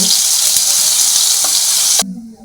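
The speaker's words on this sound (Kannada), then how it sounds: "ಈಗ ಇಷ್ಟ ಒಗ್ಗರಣೆ ಸ್ವಲ್ಪ ಬಿಸಿ ಮಾಡ್ಕೊಂಡೇನೆ" Tempering of cumin, mustard seeds and ginger-garlic paste frying in hot oil, a loud steady sizzle with faint stirring taps, cutting off abruptly near the end.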